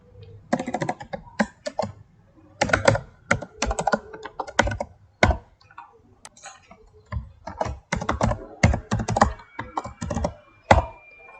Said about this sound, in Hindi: अब मुझे सिर्फ और सिर्फ पासवर्ड यहाँ पे एंटर करना है।